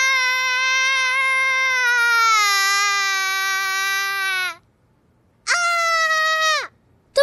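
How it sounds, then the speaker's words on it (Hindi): A girl screams and cries loudly in a long, high, wavering wail that breaks off, followed by a second shorter shrill cry and the start of a third. "तुम चिल्ला क्यों रही हो?"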